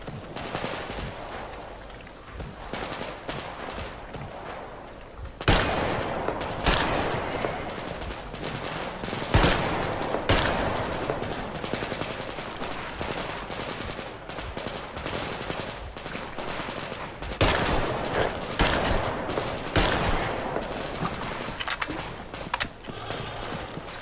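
Automatic weapons crackle in Metro Exodus, with sharp bursts of gunfire cutting in over a constant rumbling backdrop. Several loud clusters of shots come close together, followed by lighter scattered fire and some movement noise.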